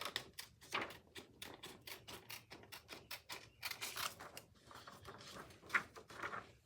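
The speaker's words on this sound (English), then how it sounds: "I'm going to cut around the image to get the excess adhesive off." Scissors cutting around a toner transfer image on adhesive sheet to trim the excess, giving a rapid series of crisp snipping clicks, close and fairly quiet, with no talking.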